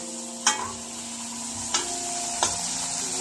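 Tomatoes are sautéed in a pan for scrambled eggs, giving a steady sizzle close up, punctuated by three sharp scraping stirs of a utensil against the pan, with no voices.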